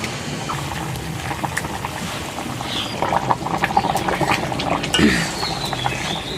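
Duck meat curry boiling in a pot after hot water is added, a bubbling simmer of irregular pops and gurgles that grows busier midway, close and fairly loud with no speech.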